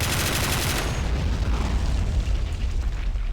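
Grenades blow up in an Army Men battle simulator, a loud, dense burst of booming explosions at the start that decays into a rumbling, crackling tail with scattered pops, with no talking over it.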